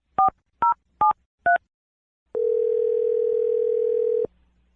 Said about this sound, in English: Let's dial his phone number.